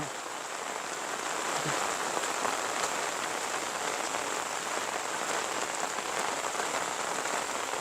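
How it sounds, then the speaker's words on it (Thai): Steady rain falling over open countryside fields and farmland, a continuous soft hiss of drops with no voices. "ฝนตก บรรยากาศฝนตก"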